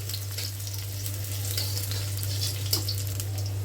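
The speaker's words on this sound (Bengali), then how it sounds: "পেঁয়াজটা আরও কিছুক্ষণ ভাজবো।" Chopped onions frying in hot oil, a steady, close sizzling hiss with a faint crackle now and then and no voices.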